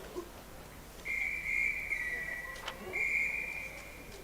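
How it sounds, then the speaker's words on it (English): At a Scottish national age group swimming championship, a referee's whistle gives two long, steady high blasts with a short break between them, faint and distant over the hum of the pool hall. "Technical malfunction, I think that's called, from the referee's whistle."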